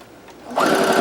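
A sewing machine stitching quilt pieces runs in a close, loud, steady whir that starts about halfway through, with no talk over it.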